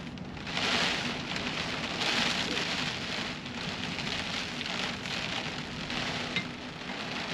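Rain drums steadily on the roof of a truck camper during an overnight thunderstorm, a loud, constant patter with a few heavier swells and no talking.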